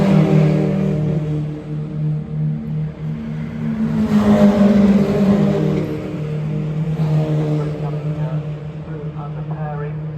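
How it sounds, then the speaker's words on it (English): Citroen Saxo race cars at Oulton Park circuit drone with sustained engine notes that rise as they pass and rev hard, heard from a moving vantage point while someone talks over the noise. "These young lads in the Saxos really giving it the beans as we go around"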